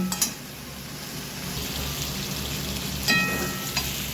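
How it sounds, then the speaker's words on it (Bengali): Vegetables for a rohu fish curry with potato, pointed gourd and okra sautéing in a pan with a splash of water, a steady moderate sizzle with a few stirring scrapes and clinks. "কিছুক্ষণ কষিয়ে নেব।"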